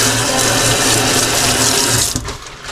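Water gushes loudly and continuously into a bag beside a trout stream at a fishing mill, a dense splashing rush that thins out in the last half second.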